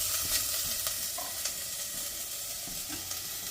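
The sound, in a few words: onions and garlic sautéing in a pan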